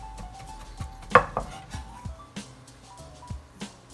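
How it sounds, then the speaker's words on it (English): Capers being chopped with a knife on a cutting board in a home kitchen, a quick run of close, sharp knife taps on the board, with light clinks of kitchenware and no one talking. "About a tablespoon of capers, chopped."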